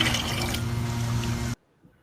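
Stinky dirty water is poured into a garden container, a short close splashing pour that stops abruptly, leaving near silence.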